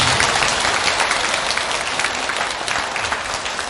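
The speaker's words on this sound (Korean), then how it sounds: "다시 한번 박수 부탁드리겠습니다." Audience applause at a Buddhist dharma talk: a steady wash of many hands clapping in a hall, sustained and then gradually tapering off.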